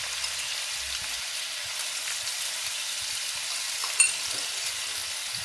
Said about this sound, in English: So I'm going to put my shrimp in and quickly add some salt and pepper.